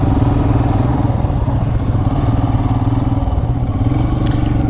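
A Ducati motorcycle engine runs steadily and loudly close by with a dense low rumble, joined by faint clatter. No one speaks.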